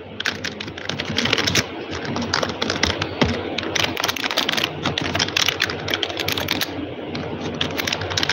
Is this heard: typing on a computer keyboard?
yes